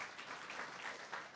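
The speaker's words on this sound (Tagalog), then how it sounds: "Pwede bang palakpak tayo kay Lord ulit?" Congregation applauding in a church, a dense, steady patter of many hands clapping, heard fairly faint and at a distance.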